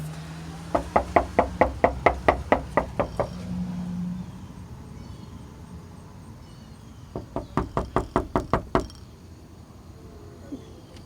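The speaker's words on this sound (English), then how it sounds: "Look, I'm gonna knock on the door." Knuckles rap on a front door in two loud bursts of about a dozen rapid knocks each, separated by a pause with quiet background noise.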